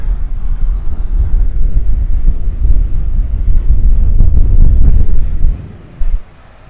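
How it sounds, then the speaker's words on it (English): Strong wind at a pond with a small waterfall buffets the microphone in a steady, low roar, dropping briefly near the end before gusting again. "A lot of wind."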